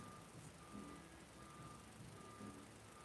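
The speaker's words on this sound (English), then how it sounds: "There's also a truck backing up" A truck backing up gives off faint, evenly spaced electronic reversing beeps, distant and steady under a broad hiss of background noise.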